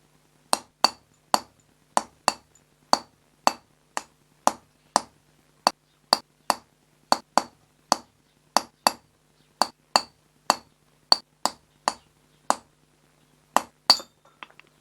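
Metal number punches are struck into a cut plate with a hammer, giving a steady series of about two dozen sharp, bright clinking taps, evenly spaced and close, with no talk.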